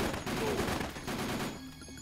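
Rapid, continuous gunfire from the Dead Rising video game rattles loudly and up close, a dense burst that fades out near the end.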